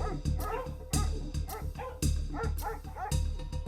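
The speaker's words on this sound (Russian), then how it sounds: "И только жуткий лай собак" Several dogs bark repeatedly in loud, close, irregular bursts, with some yipping and whimpering between barks and no voices.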